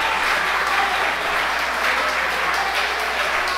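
An audience applauds at a municipal public session on property tax, a dense, even burst of clapping filling the room from start to finish with no voices over it.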